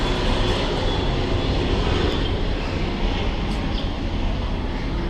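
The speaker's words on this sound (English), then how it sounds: "Yeah, a lot of planes coming in today." Aircraft flying over Cairns on a busy air-traffic day, a steady broadband engine roar that holds loud and continuous throughout with no talk.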